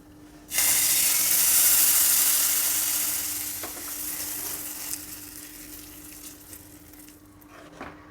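Mustard-style tempering with cumin and ground black pepper bursts into a loud, bright sizzle in hot oil, then gradually fades over several seconds with a few small crackles near the end, no voices.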